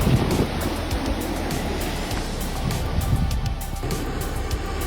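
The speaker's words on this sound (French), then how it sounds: "Les raz-de-marée sur la rivière Tienduong débordent dans de petits canaux." Tidal bore waves surge along the Tienduong river and spill into small canals, a steady broad roar of rushing, churning water with wind buffeting the microphone throughout.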